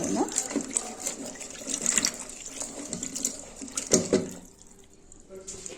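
Running water splashes and trickles over green beans being rinsed, with intermittent clatters and a voice speaking now and then.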